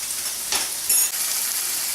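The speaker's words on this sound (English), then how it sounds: "Once the sausage gets browned on each side, I like to start chopping it into little pieces" Sausage browning in a pan sizzles steadily, a close continuous hiss with a couple of brief louder crackles as pieces shift, no voices over it.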